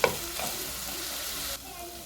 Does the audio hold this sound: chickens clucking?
no